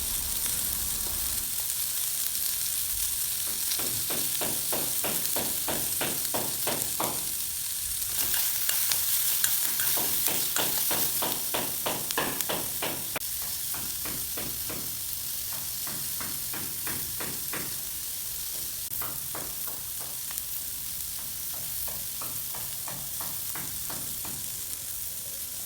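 Chilli, pepper and turmeric powders being stirred into hot frying oil, a loud continuous sizzle with bursts of rhythmic rapid scraping strokes throughout.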